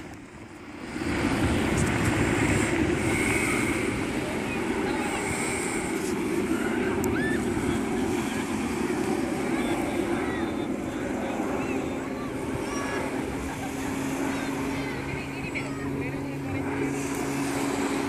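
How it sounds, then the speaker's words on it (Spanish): A light aircraft fighting a large fire near the Albufera passes overhead with a steady, loud engine drone that rises quickly and holds, while rushing wind noise runs underneath. "Vaya avioneta, pasa de largo"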